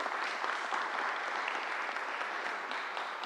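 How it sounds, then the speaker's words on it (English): A crowd at a Bronx economic development event with Governor Andrew Cuomo bursts into a steady round of applause, dense and even throughout with no voices over it. "Let's give her a strong round of applause."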